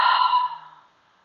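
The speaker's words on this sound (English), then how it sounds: "Couple deep breaths." A single slow, deep exhale during a guided relaxation for the chest, neck and shoulders, close and soft, breathy and fading away into quiet within about a second.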